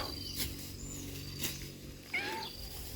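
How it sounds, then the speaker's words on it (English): A cat meows outdoors, a few short faint calls spread over a few seconds with one clearer rising-falling cry near the end, over quiet background noise. "And there's a cat. Meow, meow, meowing."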